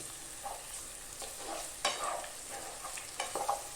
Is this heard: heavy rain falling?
no